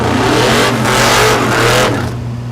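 A fastback Mustang drag car accelerates hard down a strip at Thunder Valley, Noble, Oklahoma, its loud, close engine roaring and rising in a continuous sweep before easing off at the end.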